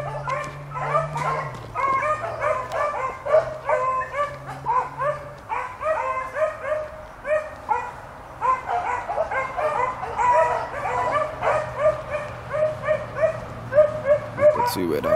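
Several beagles bay continuously while chasing a rabbit outdoors, a chorus of rhythmic yelping and howling notes at moderate distance, overlapping throughout with a faint low hum at the start.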